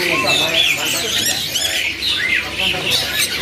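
Caged birds at a bird market kiosk, including zebra doves, squawk and chirp continuously in a busy chorus of overlapping shrill calls, close and loud, with someone speaking over them.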